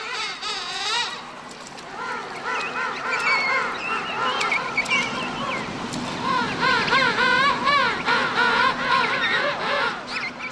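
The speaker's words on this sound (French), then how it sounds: "il en est de même entre le poussin et ses parents" A penguin chick and its parents trade loud, repeated trumpeting calls to recognise each other, a dense overlapping chorus of honking, warbling cries heard close, with a voice talking faintly beneath.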